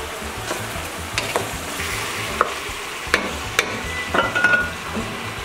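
Bolognese sauce sizzling in a pan while a spoon stirs it, with a steady frying hiss and a few sharp clinks and scrapes against the pan.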